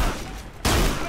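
A gunshot from the shooter SiN Episodes: Emergence cracks out loud and sudden midway, after a quieter stretch of game ambience, its burst ringing on briefly.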